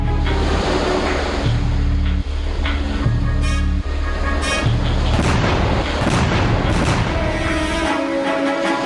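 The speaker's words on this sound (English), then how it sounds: "dozens of naval guns opened fire on the shore" Naval guns on warships fire on the shore during a night landing of World War II naval infantry, heavy booms rolling continuously under a loud, dense rumble with no clear separate shots.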